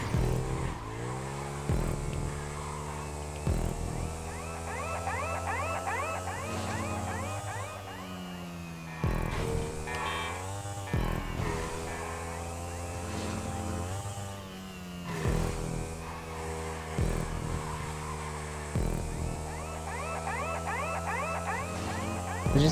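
Motorcycle engine in the GTA 5 Online video game, a loud, steady harmonic whine rising and falling with repeated revving and gear shifts through a stunt race, with music or other game sounds mixed underneath throughout.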